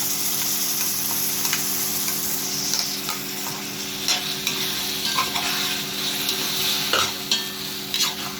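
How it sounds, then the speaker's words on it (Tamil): Steady sizzling of onion and ginger garlic paste sautéing in a pan, with occasional scrapes and taps of a spoon stirring, continuous and close. "வெங்காயமும் இஞ்சி பூண்டு பேஸ்ட்டும் நல்லா வதங்கிக்கணும்"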